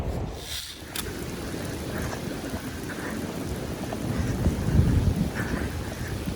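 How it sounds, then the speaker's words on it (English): Steady rain pours down outdoors in a downpour, with a rumble of thunder near the start, a broad constant wash throughout that swells slightly toward the end. "Yay, the rain caught up with us."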